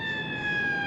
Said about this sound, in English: the sirens keep getting me